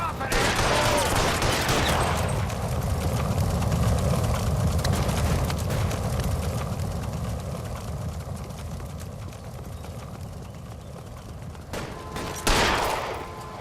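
Sustained loud gunfire rattles through a shootout with looters in L.A. Noire, during an arson case at Nicholson Electroplating, a dense fusillade that gradually thins and fades, with a final sharp burst near the end.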